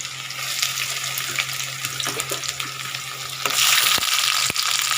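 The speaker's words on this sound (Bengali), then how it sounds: "পেঁয়াজ আর রসুনটা একসাথে করে আমি ভেজে নেব" Onion and garlic frying together in a pan, a steady close sizzle with occasional stirring scrapes, growing louder and brighter toward the end.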